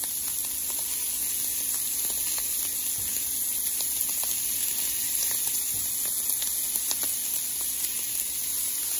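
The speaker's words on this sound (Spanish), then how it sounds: "lo que vamos a hacer es echar un poquito del tocino que nos quedó para que suelte un poquito de grasita" Bacon fat sizzling steadily in a pan while cooking hot dogs, a constant bright crackle with occasional small pops and no voices.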